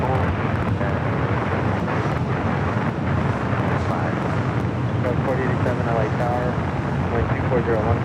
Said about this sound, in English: We got the Lufthansa King heading up for a north side takeoff here on the north side.